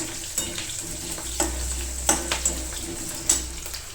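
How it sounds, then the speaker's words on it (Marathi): Green chilies frying in a pan for sabudana khichdi, a steady close sizzle with occasional sharp spatters and stirring scrapes, no voices. "मिरची छान करपू द्यायची."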